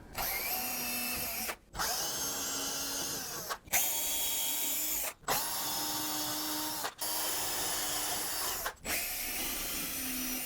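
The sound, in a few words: drill boring pilot holes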